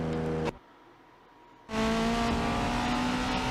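1980s race cars in a racing video game, a loud steady engine drone that cuts out briefly, then returns at full roar with higher whine at constant speed.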